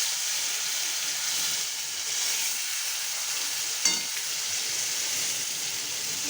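Prawn-stuffed pointed gourd fries in hot oil with a steady, close sizzle and hiss throughout, marked by one brief sharp pop near the end.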